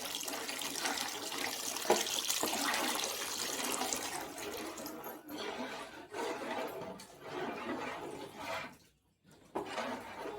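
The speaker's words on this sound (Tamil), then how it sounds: "இந்த டைமில் நம்ம புளி தண்ணி ஊற்றிக்கலாம்." Tamarind water is poured into a simmering brinjal gravy, giving a soft, steady stream of splashing liquid that runs for several seconds, then briefly stops and resumes.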